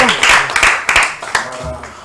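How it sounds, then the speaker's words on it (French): Audience clapping at a school prize-giving as a prize envelope is held up, a short burst of scattered claps with voices mixed in at close range. "l'enveloppe est brandie, on applaudit"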